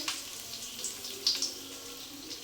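Water runs from a kitchen tap during cooking, a soft, steady hiss of flow with small splashy swells, no talk.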